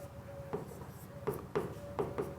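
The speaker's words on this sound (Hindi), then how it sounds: "वो मैं लिख देता हूं।" Chalk or marker strokes on a board during a chemistry lesson, a run of short scratchy taps and squeaks in uneven bursts, close and fairly clear with faint room noise behind.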